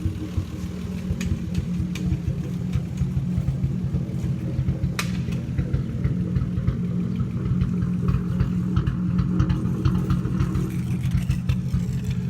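A turbocharged Lexus IS 300 engine idles with a low, steady rumble and faint uneven pulsing, heard up close with a few light clicks above it.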